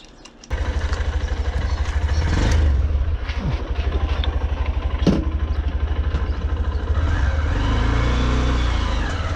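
A 2023 Honda CB125F motorcycle with a new clutch starts up and rides a lap around a yard. The small engine gives a steady, close, loud putter and rises briefly when revved.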